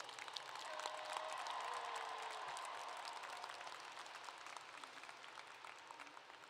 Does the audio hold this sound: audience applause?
yes